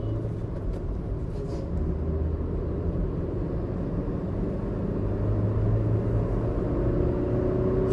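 Kia Carens Clavis driving on the road with a steady low engine and tyre rumble throughout, the engine tone rising slightly as it moves through the gears; no talking.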